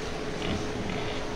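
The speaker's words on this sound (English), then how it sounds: "do you hear pigs oinky?" Pigs at a fairground animal barn grunt and oink in a steady, dense mix of low snorts over busy crowd ambience, fairly close and continuous throughout.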